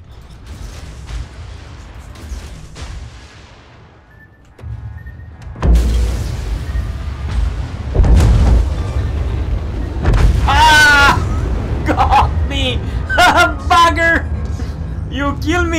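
Heavy naval guns boom in a naval warfare video game, deep low rumbles and crashes mixed with creaking mechanisms and whistling shells, while someone talks excitedly over much of it.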